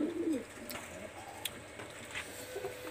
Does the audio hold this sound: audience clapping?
no